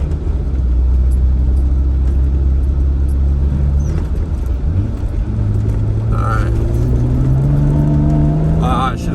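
A Jeep JK drives along a rough dirt road, its engine rumbling loud and close with steady low droning and rising revs as it speeds up, with no speech over it.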